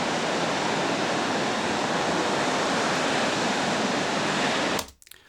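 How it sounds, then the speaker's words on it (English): Loud, steady broadband white noise plays as a test tone through studio monitors for about five seconds, then cuts off abruptly, leaving a brief quiet tail. "that is just white noise as a test tone"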